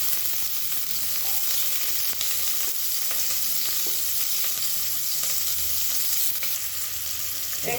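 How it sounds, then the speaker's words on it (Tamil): Onions frying in hot oil in a kadai give off a steady, close sizzle and crackle that holds evenly throughout, with no voices. "எண்ணெய் சூடானதும் வெங்காயம் சேர்த்துக்கலாம்."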